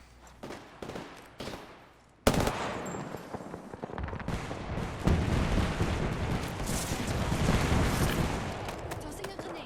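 Gunfire in Apex Legends erupts after a quiet start, with a few sharp shots, then a sudden loud burst followed by sustained rapid automatic fire and blasts, with a voice speaking briefly.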